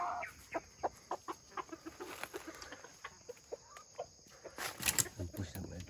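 A mother hen clucks in a series of short, regular pulses, close by, with a louder squawk near the end and faint rural background noise.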